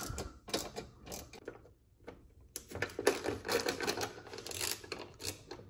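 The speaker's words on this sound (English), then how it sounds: "Now I'm just removing the 3 bolts up top" Bolts being taken out of the bumper of a Porsche 997, a run of close, sharp clicks and metallic rattles from a hand tool, coming in irregular bursts with short pauses.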